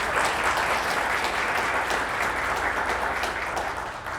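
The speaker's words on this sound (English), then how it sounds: "Let's give them a round of applause." An audience at an event gives a full round of applause, many hands clapping in a dense, even roar that holds steady for several seconds and tapers just slightly at the end.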